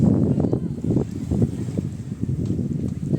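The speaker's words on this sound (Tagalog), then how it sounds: "Kasi nga malakas ang hangin." Strong gusting wind buffets the microphone with low, irregular rumbling bursts, loud and uneven throughout.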